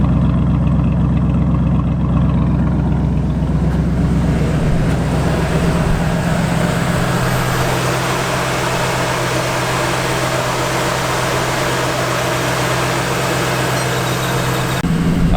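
A Ford Mustang Foxbody engine runs loud and close, a steady rumbling drone that settles into a lower, smoother idle partway through, with no talking.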